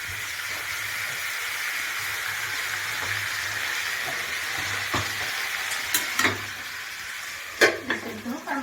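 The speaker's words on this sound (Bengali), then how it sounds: "আর মাছগুলো ভেজে দিই" Rui fish frying in fish oil in a pan, giving a steady sizzle throughout while utensils clink and scrape against the pan toward the end.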